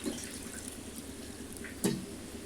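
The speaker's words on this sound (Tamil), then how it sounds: "அதில் இந்த தண்ணியெலாம் ஊற்றிக்கணும்" Water is poured into ground lemon for straining juice, a soft continuous trickle with a brief louder splash near the end, heard alone.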